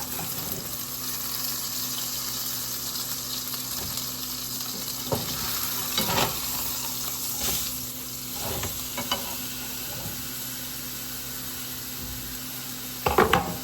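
A chuck roast searing in a hot pan, a steady close sizzle with occasional crackles and spatters and a few sharper bumps near the end, with no one talking.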